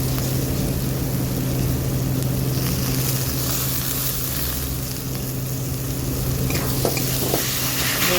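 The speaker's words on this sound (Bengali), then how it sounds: "মশলাটার সঙ্গে বেশ টক দইটা ভালো করে আর একটু মশলাটার সঙ্গে কষিয়ে নেব।" Spiced masala mixed with sour curd sizzles and is stirred steadily in a pan, a dense, continuous frying hiss with a low steady hum and occasional scraping, no talking.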